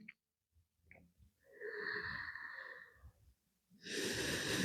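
Slow, audible breaths drawn in and released during a seated yoga twist in a beginner women's yoga session, soft airy inhales and exhales heard close up with a short pause before a stronger breath.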